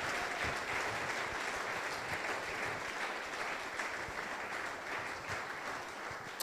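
A church congregation claps in sustained, dense applause that stays steady and fairly loud for several seconds, with no voices standing out.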